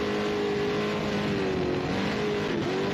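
A 7-litre Dugan off-road race car engine revs hard and sweeps past during a desert race, its loud, steady roar holding a rising and falling pitch throughout with no voices over it.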